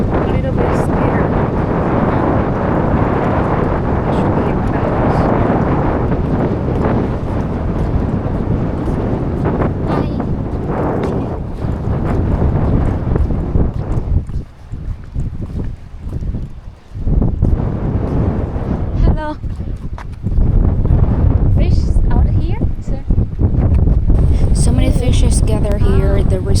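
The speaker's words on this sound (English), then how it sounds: "I feel the wind so strong." Strong wind buffets the microphone on a seaside walkway on Thulusdhoo island in the Maldives, a loud continuous roar with gusts that dip briefly and surge back, with a voice talking over it.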